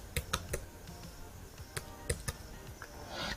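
Rapid, close keystrokes on a computer keyboard, sharp clicks in an uneven run with brief gaps, over a faint room hum and no voices.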